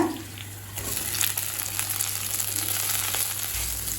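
Fried chicken pieces for Chicken 65 tossed into a pan of sizzling green chilli, ginger and garlic, giving a steady broadband hiss that swells slightly after the chicken goes in, with a low hum underneath.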